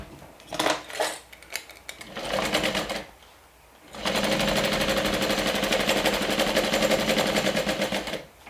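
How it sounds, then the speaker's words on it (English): A sewing machine basting around the top part of a fabric bag, short bursts of rapid mechanical stitching, a brief pause, then a long loud continuous run of close, even needle chatter. "I'm actually going to go ahead and baste all around this part"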